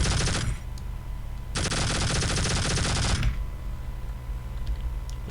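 Sentry turret in Tribes: Vengeance firing two loud bursts of rapid automatic shots, the first short and the second about two seconds long, with mechanical whirring and faint clicks between and after the bursts.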